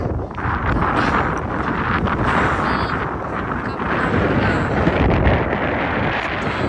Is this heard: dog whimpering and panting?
no